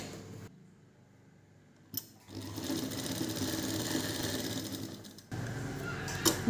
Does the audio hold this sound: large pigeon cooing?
no